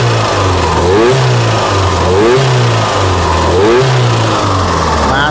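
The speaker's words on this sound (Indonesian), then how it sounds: "Ini ada sedikit suara cak-cak ini, ya. Knalpotnya ada yang sedikit bocor bagian depan ini." An Opel Blazer engine revs repeatedly in loud, close rises and falls, its slightly leaking front exhaust adding a rough ticking chatter over the steady mid-pitched drone.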